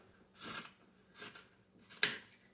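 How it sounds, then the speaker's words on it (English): Scissors snip through the heel of a sock for a bunny gnome craft, three separate crisp cuts with short pauses between them, near and fairly quiet, no talking. "we are going to cut down through the middle of the heel to cut the top"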